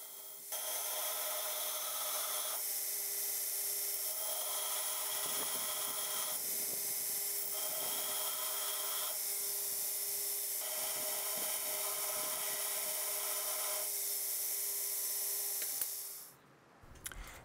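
A hand file works a fuller into both sides of a steel knife tang, giving repeated rasping strokes in steady bursts of a few seconds each. The strokes are close and fairly quiet, with no talk.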